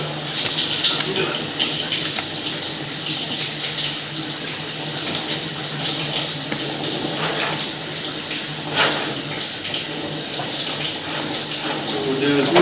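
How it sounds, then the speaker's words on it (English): Water flows steadily through a sewer pipe under a camera inspection push, a continuous broadband rush and hiss that stays at an even level throughout. "we'll use the water here and we'll let it flow as we're pushing out"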